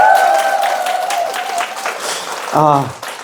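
Audience applause and cheering fill a parent education lecture hall, a dense wash of clapping running throughout while a voice speaks over it, then a short loud shout near the end.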